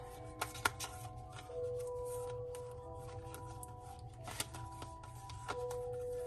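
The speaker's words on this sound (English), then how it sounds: "so we're going to shuffle the 10s" Tarot cards being shuffled on a table, soft repeated riffling and tapping, faint and close, with a few sharper clicks and no talking.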